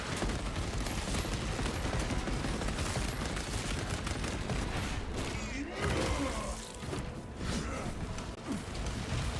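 Heavy bolt pistol gunfire in a Warhammer 40K Space Marine style video game, dense bursts of booming shots and impacts layered with battle noise, loud and continuous throughout.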